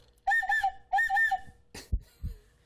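A toy cuckoo whistle sounds twice, each call a short run of bright hooting notes, followed by a couple of soft thumps.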